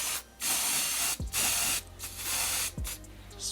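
An aerosol can of lace tint hisses onto the lace of a 12-inch wig in several long, loud close bursts separated by short pauses and clicks of the nozzle.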